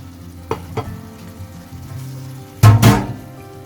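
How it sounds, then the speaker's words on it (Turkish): Eggs poured over chickpeas and peppers for a chickpea menemen sizzle in a hot pan: steady frying hiss with a few clicks, then a loud burst of crackling sizzle as the egg hits the oil. "Şimdi yumurtanı yavaşça bir şekilde üzerine gezdiriyorum"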